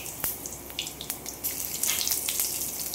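Whole spices dropped into hot mustard oil, a bright crackling sizzle with sharp pops, close and without talk over a few seconds.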